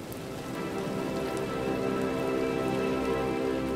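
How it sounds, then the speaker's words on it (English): Heavy rain pouring down on a golf course during The Open championship, a loud, dense, unbroken hiss that swells slightly and holds steady, with faint sustained tones underneath and no talk. "Never seen so much rain."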